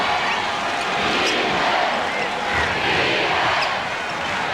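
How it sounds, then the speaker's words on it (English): An NBA crowd chants defense during the 1996 Eastern Conference Finals Game 4, Bulls at Magic, a dense, steady roar of many voices filling the arena throughout. "with a chant of defense from the crowd as Scottie Pippen teed it up"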